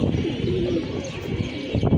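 Pigeons coo continuously in a loft on a stormy, rainy day, soft low throaty murmurs overlapping close by with no talking.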